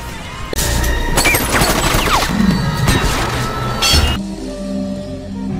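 An Arcwing heavy laser cannon from the game Warframe fires in a sustained crackling, buzzing stream for several seconds, with metallic impacts and zaps layered over it, then cuts off to leave a low ambient hum.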